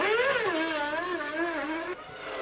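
Several 1998 Formula One cars scream through a wet pit lane at a race, one high-pitched engine note rising and falling in steady revs close by, then cutting to a slightly quieter, broader roar near the end.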